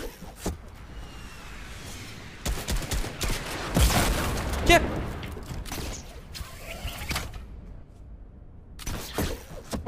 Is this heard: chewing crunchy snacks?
no